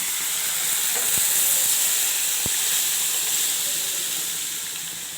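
Sambar made with mashed lentils and snake gourd boils in a pot, a steady loud hiss and bubbling fizz with a couple of faint ticks, no voices.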